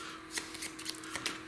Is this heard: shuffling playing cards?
yes